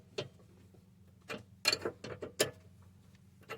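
Scattered metallic clicks and ratcheting bursts from a 15mm wrench snugging down the lower end of a passenger-side sway bar link on a Mercedes-Benz C240, a few separate close taps over a low steady hum.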